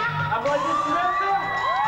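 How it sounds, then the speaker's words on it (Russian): A crowd at an old-school breakdance battle jam cheers and whoops loudly, with excited shouting voices layered throughout a dense, continuous roar of people. "Громкие аплодисменты!"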